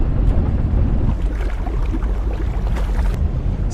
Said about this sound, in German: Kann man den Motor nicht abstellen?